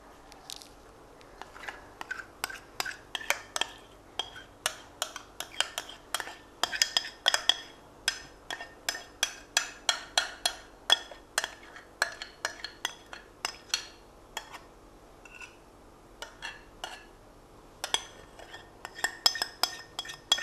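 A spoon clinks and scrapes repeatedly against a pot on the stove while a chocolate mixture for a digestive-biscuit dessert is stirred, giving a close, busy run of sharp ticks and knocks throughout.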